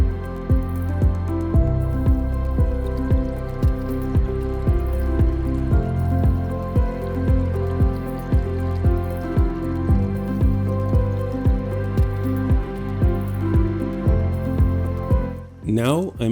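Water drips steadily from a DIY watering system on a GreenStalk vertical planter, one drop after another at a regular, even rhythm. The drips are close and distinct over a faint background of running water, and a brief rustle comes at the end.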